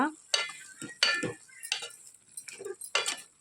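A spoon scrapes and clinks against a pot while stirring a curry, several distinct strokes in an uneven rhythm, close and clear against a quiet background.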